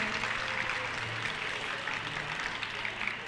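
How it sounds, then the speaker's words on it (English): An audience at an independent schools netball league event applauds, a steady mid-distance patter of clapping that holds evenly for a few seconds without pause. "I think they deserve a big round of applause"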